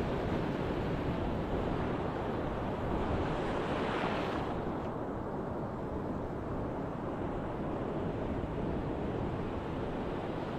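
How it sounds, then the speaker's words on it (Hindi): Sea waves wash continuously onto the shore under a cloudy sky with cool wind, a loud, steady roar of surf blended with wind noise on the microphone, no voices. "समुद्र की लहरों को देखेंगे, उसकी आवाज को सुनेंगे"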